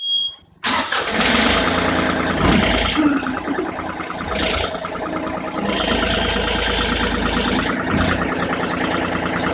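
A John Deere 3038R compact tractor with loader and bucket starts up and then runs steadily close by, a loud, dense engine rumble with a continuous mechanical clatter and no speech.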